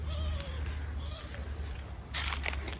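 A cat meows faintly over a steady low hum and background noise, with a couple of thin cries and a brief brighter burst near the end.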